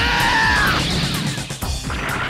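Animated sound effect of a thrown rock smashing on impact: a loud, close crash with crumbling debris, followed by a few scattered hits and rumbles, with no voices.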